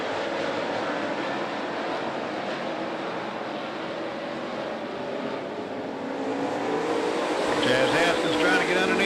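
Race cars on a dirt speedway, a dense continuous roar of many engines heard from a distance, steady throughout and swelling slightly louder toward the end.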